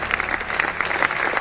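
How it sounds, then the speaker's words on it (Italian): A short burst of steady, dense clapping from a small group, continuous and fairly loud throughout. "applausi"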